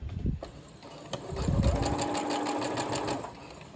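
A sewing machine stitches skirt pleats to the lining, a steady fast mechanical whir after a few brief starts, close and fairly soft.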